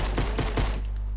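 A green pistol fires in Fortnite Battle Royale, a quick run of three or four close, punchy shots within about a second, then fading.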